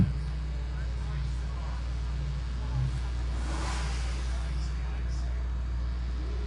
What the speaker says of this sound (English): Audi, big Audi coupe.